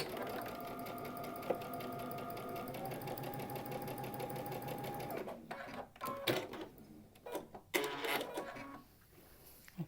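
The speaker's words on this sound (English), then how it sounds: "So we're going to sew the middle one to the outside edge, square." A sewing machine stitches quilt block units in a fast, steady mechanical whir, then stops and gives way to short handling clatter and softer rustling.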